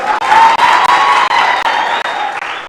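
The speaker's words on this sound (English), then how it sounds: "Round of applause to Cecilia" Debate audience for Turkana women representative candidates breaks into loud sustained applause with some cheering, a dense crowd roar of clapping throughout.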